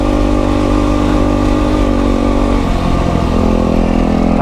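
A Yamaha WR450F dirt bike engine roars loud and close in a sustained, buzzing drone, its pitch shifting as the throttle rises and falls, with no speech.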